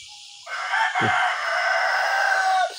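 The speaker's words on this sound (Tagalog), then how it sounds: "Mga chicken manok, ayun na sila." Chickens near a tree on a Davao Oriental farm crow and cluck loudly and close by, with one long crow over overlapping bird calls and a low thump.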